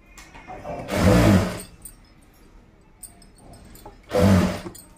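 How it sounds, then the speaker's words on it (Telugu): A sewing machine stitches a topstitch along the seams of an umbrella dress, running in two short, loud bursts separated by a quiet pause. "ఇది పైనుంచి ఒక కుట్టు వేసేస్తున్నాను."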